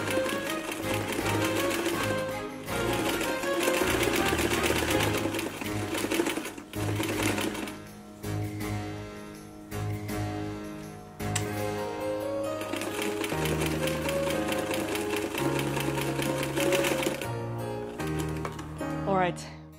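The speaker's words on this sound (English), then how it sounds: "cut this, sew along the bottom, and then" Sewing machine stitching along the bottom edge of 18th century stays, a fast rhythmic mechanical whir in several runs with brief stops between, close and fairly loud, with music playing underneath.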